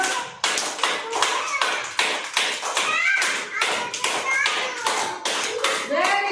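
Preschool children clap together during a classroom movement game, a quick, steady rhythm of sharp claps, with kids' voices mixed in.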